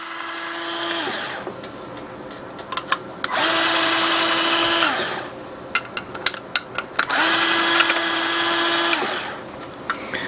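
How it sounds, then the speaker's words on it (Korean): A cordless power drill fitted with a hex bit whines in two long sustained runs as it loosens bolts on a metal heater for an exposed fire hydrant, with clicks and small metallic knocks between runs. "육각 비트를 전동에다 이렇게 연결하신 다음에 볼트를 3개만 먼저 풀어 주시는 겁니다"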